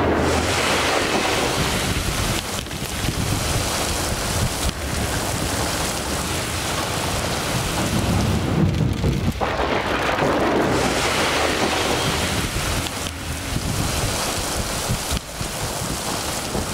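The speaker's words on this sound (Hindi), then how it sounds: "इस्लामाबाद में गरज चमक के साथ तेज बारिश और यालाबारी।" Heavy thunderstorm rain pours down over Islamabad in a dense, steady roar that holds loud and unbroken throughout, with no voices.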